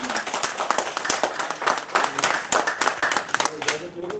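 An audience at a Dr. Babasaheb Ambedkar birth anniversary celebration claps in an uneven, moderately loud burst, with talk mixed in over the clapping.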